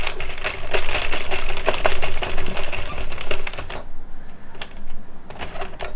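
A knitting machine carriage slides across the needle bed while knitting a headband-style hat in wool, giving a loud, rattling, clattering pass that then drops to lighter clicks, close by with no talking.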